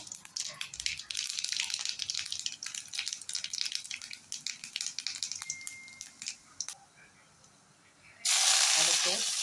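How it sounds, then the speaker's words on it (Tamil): Mustard seeds spitting and crackling in hot oil, a busy stream of sharp pops and sizzle that thins out, with a loud burst of frying near the end. "எண்ணெய் காஞ்சிருச்சு. இப்போ கடுகு போட்டுக்கலாங்க."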